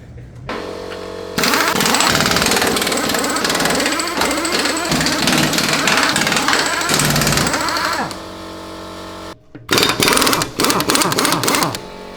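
A tank's loud, heavy engine roars steadily with rattling mechanical clatter, cutting out briefly near the end before starting up again in rough bursts.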